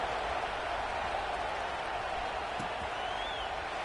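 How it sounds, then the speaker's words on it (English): A college football stadium crowd at a Northwestern Wildcats game keeps up a dense, steady roar after a touchdown, with no distinct cheers standing out. "this crowd is buzzing after that last score"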